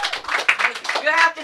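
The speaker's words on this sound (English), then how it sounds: "Clap for your host as we close out the show." An open mic audience claps briefly for the host at the close of the show, a short patter of hands mixed in with talking and voices.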